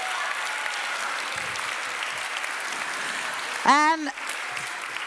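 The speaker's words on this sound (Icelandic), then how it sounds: "Og ekki gefa hann rosalega góða klapp" A church congregation at an Icelandic confirmation mass applauds the confirmation boys, steady even clapping throughout at moderate distance, with a brief voice cutting in near the end.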